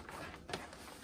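An HP printer runs while printing photos, giving a soft, steady mechanical whir across the short moment with one brief louder burst near the middle.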